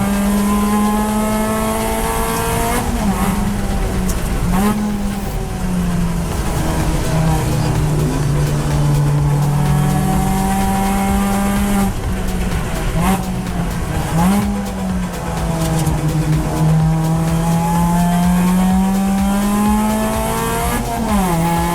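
Endurance racing at Clark Speedway with a Mustang, Civic and two Miatas on track, engines howling and rising through gears in repeated sweeping upshifts and downshifts, close and loud for the whole stretch.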